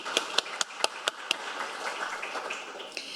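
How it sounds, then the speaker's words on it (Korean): Scattered handclaps from an audience at a Korean National Assembly forum on medical innovation, a few distinct sharp claps at first that thin into a soft, sparse patter, fairly quiet and without much crowd swell. "좋은 자리 마련해 주신 최보윤 국회의원님께 다시 한번 큰 박수 부탁드리겠습니다"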